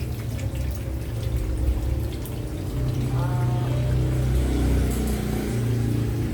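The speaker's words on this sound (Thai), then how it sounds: "ใส่น้ำสะอาดลงไปเลยนะ" Clean drinking water pours into a cooking pot for braised Thai pork leg, a steady splashing flow heard close up under background noise while someone talks.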